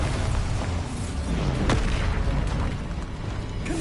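A Bombarda spell blast in Hogwarts Legacy sounds as a loud, sharp explosive burst in the middle of dense, continuous game noise and rumble.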